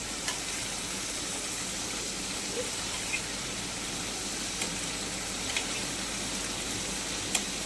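Spiced masala for a katla fish kalia sizzles steadily in a pan as it is sautéed, a dense continuous frying hiss with a few faint clicks and no speech.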